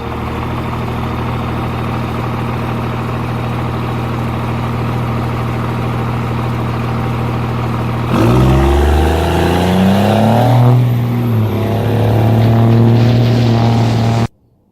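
Cummins diesel truck fitted with Grand Rock stacks, loud and close: a steady rumbling idle for about eight seconds, then several sharp revs that climb and fall, with a sustained higher-pitched rev near the end.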